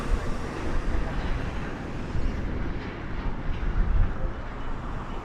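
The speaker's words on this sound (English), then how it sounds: "SCX103 coming in from MSP Minneapolis, and it's going to be a Boeing 737" A Sun Country Boeing 737 arrives at Las Vegas Harry Reid International Airport, a broad, steady jet rumble heard from a distance and holding at even loudness.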